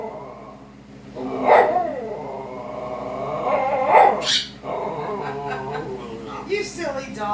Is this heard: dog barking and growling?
yes